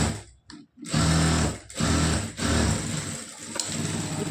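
A sewing machine stitches a lining blouse in quick, close bursts, starting after a short pause, stopping briefly, then running steadily again with no talking.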